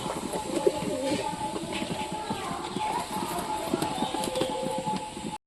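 Pigeons in a coop coo softly in a steady murmur, with light scratching and fluttering sounds over a constant low background hum.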